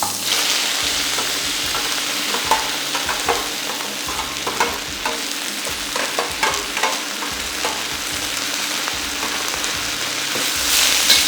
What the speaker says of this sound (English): when the oil is hot, put in all the vegetables and seasoning into the wok